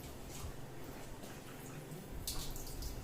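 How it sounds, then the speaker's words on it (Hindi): Water runs from a Kangen water machine into a glass in a soft, steady trickle that grows louder and brighter near the end, with faint background noise. "देखिए ये मशीन से मैं निकाल रहा हूँ पानी।"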